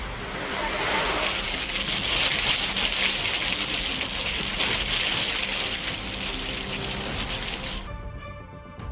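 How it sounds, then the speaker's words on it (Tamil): Heavy, steady rain pours down for about eight seconds as a loud, continuous broadband hiss, then cuts off abruptly near the end. "தொட்டகாச்சனூர், மல்லன்குழி உள்ளிட்ட பகுதிகளில் 1 மணி நேரத்திற்கு மேலாக பலத்த மழை பெய்தது"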